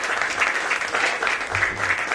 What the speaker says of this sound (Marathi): ह्या दोघांसाठी एकदा अगदी कडकडून सगळ्यांनी टाळ्या वाजवायला पाहिजे